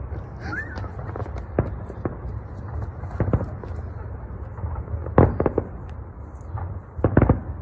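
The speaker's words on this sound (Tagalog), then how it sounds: "Oh, fireworks, oh wow." Canada Day fireworks burst outdoors as scattered sharp cracks and pops, somewhat distant, with clusters of several reports near the middle and end over a steady low background rumble.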